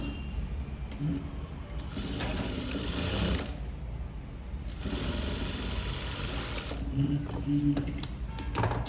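A sewing machine stitching a child's skirt runs in bursts, its mechanical whirring rising and pausing between runs, close and moderately loud with low rumble underneath.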